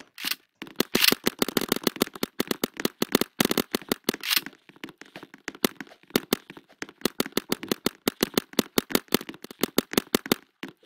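Rapid strings of paintball gun shots snap in quick bursts during a Roblox paintball fight, sharp and close, with brief pauses between volleys.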